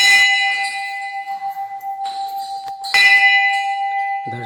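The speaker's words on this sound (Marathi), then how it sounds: "दर्शन आम्ही घेणार आहोत आणि ह्यो उगत तरी घंटा वाजव." A metal temple bell rung in a shrine, two loud clanging strikes with a long, ringing, shimmering sustain between them, close and clear with no talk.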